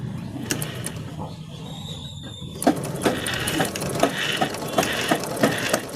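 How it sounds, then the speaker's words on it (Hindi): A pico sewing machine stitching a joint between two pieces of fabric runs in a steady rhythmic whir with regular needle thumps, close and moderately loud, beginning after a quieter stretch of background hum. "इस तरीके से हम चलाएंगे तो हमारी मशीन इसका और इसका जॉइंट बहुत ही खूबसूरती से करेगी"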